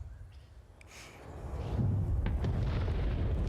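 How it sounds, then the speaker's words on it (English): A rumbling explosion in the video game Star Citizen, with a cinematic shockwave and delayed speed-of-sound effect, starting with faint crackles and building to a heavy, sustained low boom that holds loud to the end. "Finally, the really cool stuff, explosions."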